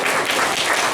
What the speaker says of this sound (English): Let's give a round of applause for Baba